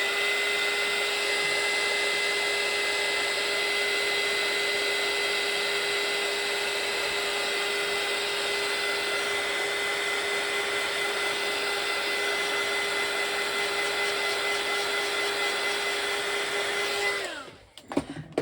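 A hair dryer blows steadily to dry watercolour paint on a calico bag, its loud, even whine holding for about seventeen seconds before cutting off abruptly near the end.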